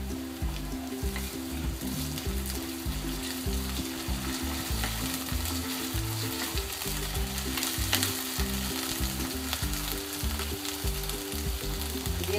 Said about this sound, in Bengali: পেঁয়াজটা ভাজা হয়ে গেছে, এর থেকে বেশি ভাজবো না। আদা রসুনের পেস্টটা দিয়ে দিচ্ছি।